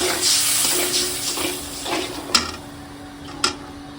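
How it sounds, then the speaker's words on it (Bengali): Water poured into a cooking pan over spices, a soft, fairly steady pour close by with a couple of sharp clinks partway through. "এখানে একটু পানি অ্যাড করে দেবো"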